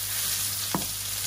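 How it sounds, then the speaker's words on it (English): Noodles stir-frying in a wok with vegetables, ginger and garlic: a steady hiss of sizzling with a single short scrape of stirring near the end, close and fairly quiet. "We get our noodles in there."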